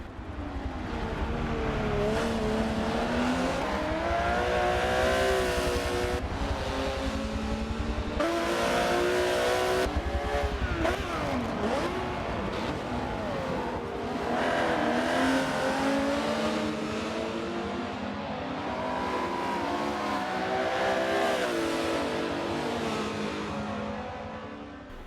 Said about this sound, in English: that Porsche is coming really fast